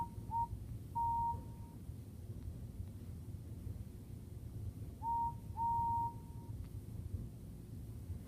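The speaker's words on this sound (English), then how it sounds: "He whistled angrily." A toy Thomas and Friends steam engine, Henry from the ERTL line, gives two pairs of short, clear whistle toots several seconds apart, close and fairly loud over a low steady background hum.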